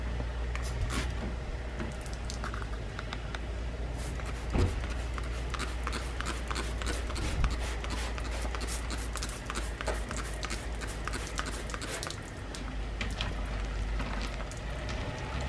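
Water sprayed and dripping over a car's paint, a steady hissy wash with scattered pattering drops and a few splats, fairly close and continuous with no talking.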